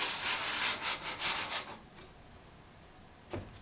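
The sliding top of the squaring platform on an HH-4 Grandwork hammer hanging attachment is pushed out beneath the hammers, giving a close, steady scraping slide that fades to quiet and ends with one faint knock.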